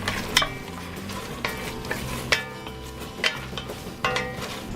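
Pork cooks in coconut milk and a tablespoon of oil in a Dutch pan for laing, with a constant bubbling sizzle broken by sharp stirring scrapes about once a second.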